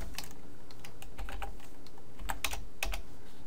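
Rapid, close computer keyboard typing while writing jQuery code for a tic-tac-toe game, with bursts of clicks and brief pauses in a quiet room.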